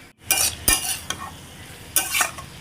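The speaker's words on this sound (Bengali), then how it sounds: "আমার বড় ইচ্ছা একটু বড় বড় করে বাঁধাকপি দিতে, তো সেইটাই ভাজছি" Cabbage frying in a pan as a spoon stirs it, giving a steady sizzle broken by several scraping strokes against the pan, close and clear with no talking.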